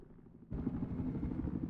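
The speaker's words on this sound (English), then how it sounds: "There's two helicopters flying above you, GC." A steady low rotor drone begins abruptly and holds, loud and continuous, as two helicopters pass overhead in the video game Battlefield 4.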